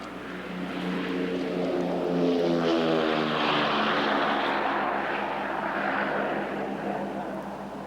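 A Lockheed P-38 Lightning propeller plane flying an aerobatic demonstration at an airshow drones overhead, its engine pitch slowly sliding as it passes, loud and continuous with a rough buzzing edge.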